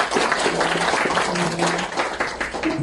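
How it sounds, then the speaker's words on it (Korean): A debate audience applauds as a panelist is introduced, a brief, steady wash of clapping throughout with faint voices beneath. "박수를 크게 부탁드리겠습니다"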